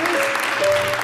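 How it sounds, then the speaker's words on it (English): A church congregation at a Sunday service applauds its volunteers with steady, dense clapping from a crowd indoors, loud and continuous across the short stretch. "we're just going to give them a round of applause"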